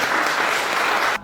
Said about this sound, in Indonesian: Ya, tepuk tangan dulu untuk temannya.